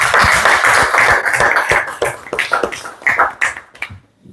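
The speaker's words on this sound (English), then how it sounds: "Big round of applause for them once again" Close, loud clapping from a small audience at a spoken English training session, starting as a dense patter and thinning into a few scattered individual claps before stopping.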